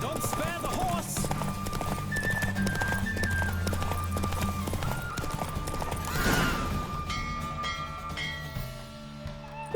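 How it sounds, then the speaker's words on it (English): Galloping horse hooves drum rapidly through a race in The Witcher 3, with whinnies and neighs breaking in, while game voices and music play over the pounding clip-clop. "Don't spare the horse!"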